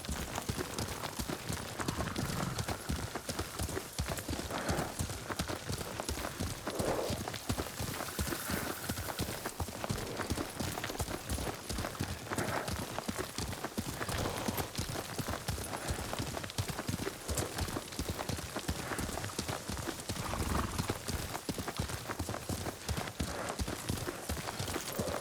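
Horse hooves clip-clopping at a steady riding pace in the video game Ghost of Tsushima, a continuous rhythmic clatter lasting throughout with faint background ambience and occasional voices underneath.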